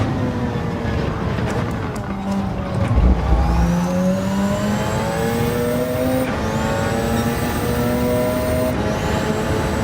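In Gran Turismo 7, a race car engine revs hard, its pitch climbing repeatedly as the gears are shifted up. The loud, steady engine wail carries on throughout.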